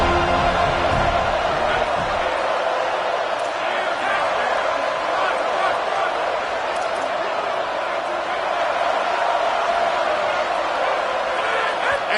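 Steady roar of a stadium crowd at a football game, a broad continuous wash of massed voices holding loud throughout, with an announcer talking over it.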